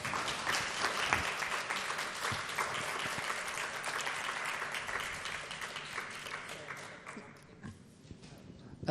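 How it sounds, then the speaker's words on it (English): At a book launch, a seated audience applauds the panelists with sustained, moderately loud clapping that holds steady for about seven seconds, then fades into a few last claps. "Please give our panelists a round of applause."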